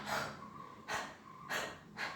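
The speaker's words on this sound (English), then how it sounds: "Huffing means you imagine this is a mirror and you are making steam on that." Three forceful open-mouthed huffs of breath without closing the glottis, a respiratory physiotherapy exercise, close up and evenly spaced, with a soft breathy rasp between them.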